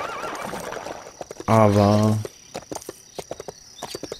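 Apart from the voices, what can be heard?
horse neighing and hooves clip-clopping in Lego City Undercover video game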